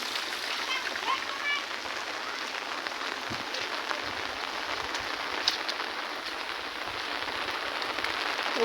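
Steady rain falling during a flood-season downpour, a dense continuous hiss of drops on surfaces close by, even in level throughout with a few brief louder spatters.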